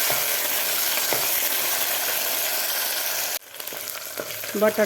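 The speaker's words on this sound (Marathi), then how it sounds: "हे सुद्धा आपल्याला व्यवस्थित बटाटासुद्धा फ्राय करून घ्यायचं आहे" Raw potato pieces fry for khichdi in a pan, giving a steady, fairly loud sizzle. Partway through the frying noise drops sharply, then returns with scattered crackles and a few clinks.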